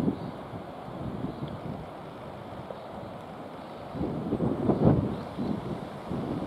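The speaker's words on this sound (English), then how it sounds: "So it's rather windy." Steady wind buffeting a microphone outdoors on a golf course, a low rumbling roar that swells louder for a few seconds before settling back.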